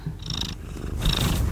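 Domestic cat purring up close, a low steady rumble broken into two buzzing stretches with a slight pause between, alone without voices.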